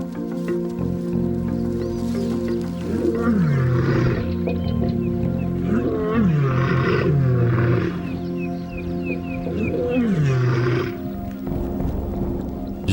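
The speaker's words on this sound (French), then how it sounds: "c'est le plus souvent avant le lever du soleil et après son coucher qu'ils rugissent pour rassembler le clan" Lions roar in a series of deep, drawn-out calls, several in a row a couple of seconds apart, loud and close against the wild outdoor background.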